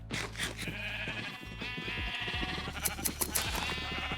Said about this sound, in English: There are a lot of sheep in here.